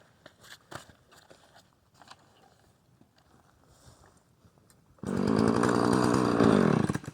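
A chainsaw bites into a log for milling and firewood, starting suddenly and loudly after several seconds of quiet outdoor clatter and faint knocks, then running at a steady cutting roar to the end.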